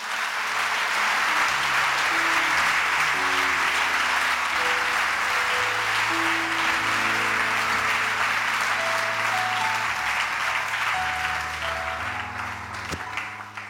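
A church congregation bursts into sustained applause acclaiming the Lord, a dense wash of clapping with scattered cheers. It holds steady for the whole stretch, with organ or keyboard chords sounding underneath.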